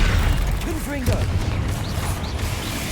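Confringo fire spell going off in Hogwarts Legacy, a dense low booming burst with crackling debris, heard under gameplay effects and a short pitched voice or creature call partway through.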